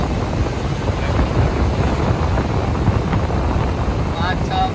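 Breeze from a new electric fan buffets the microphone with a steady, loud, rumbling wind roar that never lets up, while voices talk faintly underneath.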